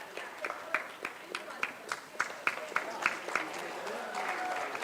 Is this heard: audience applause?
yes